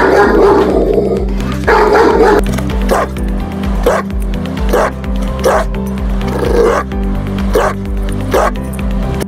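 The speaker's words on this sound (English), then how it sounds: "Powerful and loudest bark? Let's hear it first and we'll decide accordingly." A German Shepherd and an American Bulldog bark loudly and close up, a series of deep, powerful barks repeating at irregular intervals over a steady low background hum.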